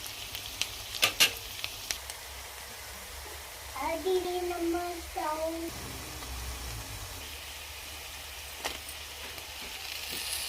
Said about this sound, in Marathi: कांदा तेलामध्ये लाल होईपर्यंत परतून घ्यायचा आहे